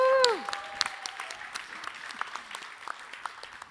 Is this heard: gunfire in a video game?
no